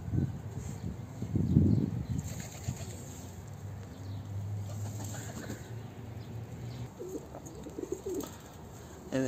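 Pigeons in a coop, with a burst of flapping wings early on, then soft repeated cooing and scattered wing noises close by, fairly quiet overall.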